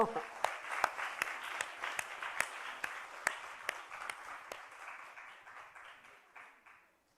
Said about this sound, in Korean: 자, 뜨거운 박수로